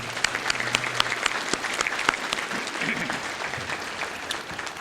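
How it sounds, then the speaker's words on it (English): Audience applause at the 2021 Joe Sewell Award Banquet, a crowd clapping steadily with a few sharper nearby claps and faint murmuring voices underneath. "So can we give them a round of applause real quickly?"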